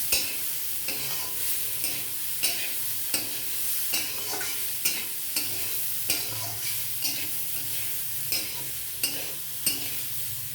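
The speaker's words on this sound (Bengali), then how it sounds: "এর মধ্যে আমি সবজিগুলো দিয়ে দেবো, দিয়ে ভালো করে নাড়াচাড়া করে নিতে হবে।" Vegetables fry in a hot pan with a continuous sizzle, and a spatula knocks against the pan at steady intervals about once a second as they are stirred. The sound is close, with no voices.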